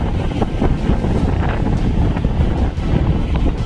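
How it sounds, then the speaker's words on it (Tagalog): Strong wind at sea off Surigao buffets the microphone in a constant low roar, with a rushing, watery wash underneath throughout. "malakas ang hangin."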